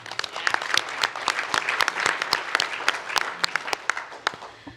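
Audience at a higher-education plenary session applauding its panelists, a steady wash of many hands clapping with sharp individual claps standing out, fairly close and sustained throughout.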